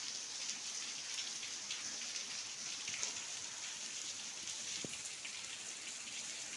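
Steady rain falls at a Shiva temple with a Rama temple flagpole and wedding hall nearby, a continuous close hiss with scattered drops striking surfaces, occasional sharper patters standing out, no voices heard.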